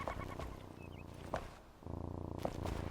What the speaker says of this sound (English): I hear him purring, though.